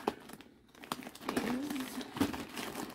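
Stuffing paper crinkles inside a black padded handbag with gold hardware and lining, soft rustling crackles over a few seconds while a voice talks quietly.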